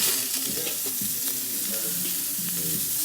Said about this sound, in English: let's run some steam